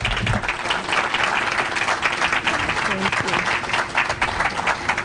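An audience at a Rochester affordable housing event applauds in a loud, continuous wash of clapping welcoming the mayor, with some crowd noise mixed in.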